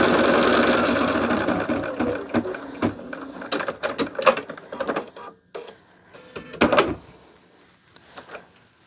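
Embroidery sewing machine stitching along a line, a busy mechanical whir with rapid needle clatter that breaks into irregular knocks and clicks as it slows, close and fairly loud with no talking.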